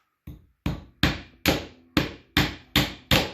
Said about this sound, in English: I'm going to pound a couple nails in here